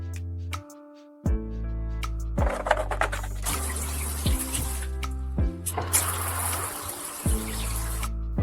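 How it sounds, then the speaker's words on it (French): Tap water pours through the cut top of a plastic bottle, a loud splashing flow that stops and restarts in uneven bursts, with some tonal sounds running underneath. "Avec la partie supérieure d'une bouteille en plastique, vous pouvez ajuster l'angle du flux d'eau du robinet."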